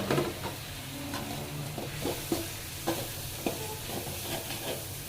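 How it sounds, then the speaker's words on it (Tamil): Chopped capsicum (bell pepper) being stirred and fried in a pan for an egg gravy, a steady sizzle with repeated scraping strokes of a spoon about every half second, close and alone. "இந்த ஸ்டேஜ் வந்த பிறகு நம்ம குடமிளகாய் போட்டுக்கலாம்."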